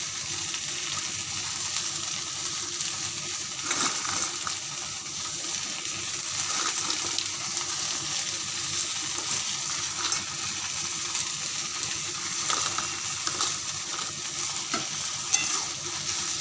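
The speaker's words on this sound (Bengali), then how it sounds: "যে পকোড়াগুলো বানিয়েছি পকোড়াগুলো এখানে দিয়ে দেবো" Mung dal pakoras drop into a potato and pointed gourd curry frying in a pan, giving a steady, moderate sizzle with occasional stirring scrapes throughout, close by with no talk.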